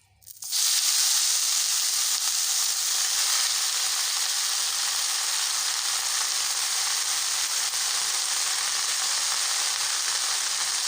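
Pumpkin greens sizzle loudly in a hot pan with oil, a dense, steady hiss that surges in at the start and holds for the rest of the clip, close and with no voices.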